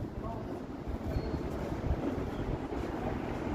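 Wind buffets a microphone on a Toronto city street on a warm evening, a faint, constant rushing roar with soft low gusts and no voice rising above it.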